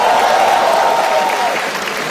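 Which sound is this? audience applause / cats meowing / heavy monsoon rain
audience applause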